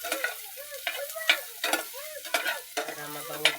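Garlic, ginger and onion sautéed for arroz caldo, giving repeated scraping stirs over a soft, steady sizzle close by, with short bursts of clatter at irregular intervals and no talking.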